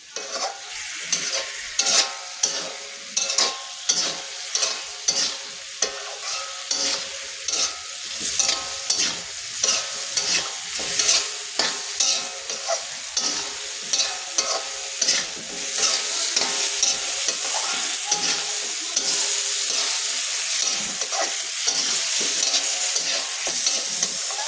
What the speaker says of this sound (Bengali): মশলাগুলো দিয়ে ভালোভাবে নাড়াচাড়া করে নিতে হবে।